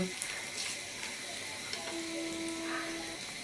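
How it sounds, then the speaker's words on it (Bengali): Onions with cardamom sizzle in hot oil in a pan as they are stirred toward brown for a rooster curry: a steady, close frying hiss with light scraping and a voice talking over it. "এখন আমি এগুলো ভালোভাবে নেড়ে চেড়ে নিয়ে বাদামি কালার করে নেব"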